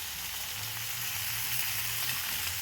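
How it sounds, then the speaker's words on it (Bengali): Potatoes and carrots fry in a pan with a steady, close sizzle that holds at an even level throughout, with faint stirring mixed in and no voices. "গাজর আলু দিয়ে দিলাম, এটাকে ভালো করে নাড়বো।"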